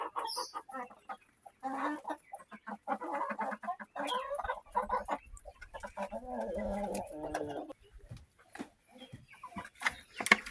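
Chickens cluck close by in short, soft bursts, several birds murmuring and calling irregularly against quiet background with occasional small clicks.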